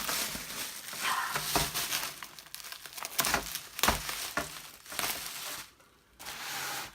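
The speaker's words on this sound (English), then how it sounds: "see if I can cut through the tape and unwrap these things" Packaging tape is cut and bubble wrap around Apple II Plus parts is unwrapped, making irregular crinkling and crackling bursts with sharp tearing snaps and brief pauses, close and fairly quiet.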